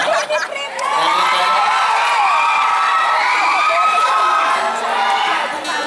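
An audience cheers loudly, a sustained roar of shouting and whooping voices, some high-pitched like children, with clapping mixed into the din.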